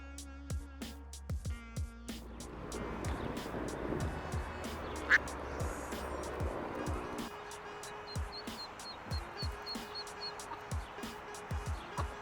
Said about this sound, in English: these ducks are hilarious.